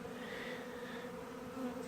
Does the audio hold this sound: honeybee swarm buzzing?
yes